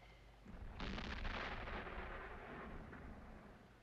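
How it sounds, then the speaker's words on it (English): A single deep, distant boom rolls in and rumbles on for a few seconds, low and muffled, like far-off cannon fire. "That could be cannon fire."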